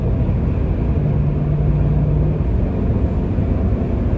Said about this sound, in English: That sounds like a V8.